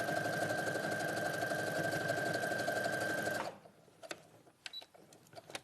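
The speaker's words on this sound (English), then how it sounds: "So let's sew this next one down." Sewing machine stitching down a quilt strip, a steady, fast mechanical whirr for about three seconds that then stops, leaving faint clicks and quiet handling sounds.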